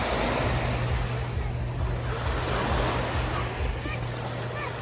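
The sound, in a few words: ocean waves at a beach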